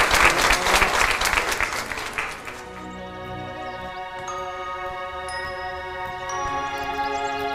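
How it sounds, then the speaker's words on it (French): Audience applause at a French art and performance show, loud and dense at first, then fading after about two and a half seconds as sustained music tones rise and carry on alone. "Applaudissons pour RSF."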